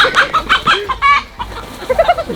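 A hen clucks close and loud in a quick run of short, throaty calls, with a brief higher squawk in the middle before the clucking resumes.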